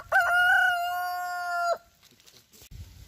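A rooster crows once, loud and close, a long stretched call lasting over a second, followed by quiet background rustling.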